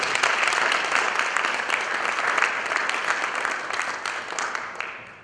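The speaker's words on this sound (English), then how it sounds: "Can we get a round of applause for her?" A room of attendees at a leadership conference breaks into thick, continuous applause that holds steady, then tapers off gradually toward the end.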